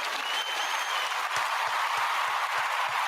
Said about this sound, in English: a clap for him again.